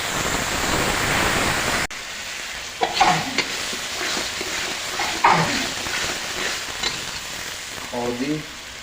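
Onions and spices sizzle and are stirred in a hot pan for a desi chicken curry, a steady loud frying hiss with occasional scraping stir strokes, no talking.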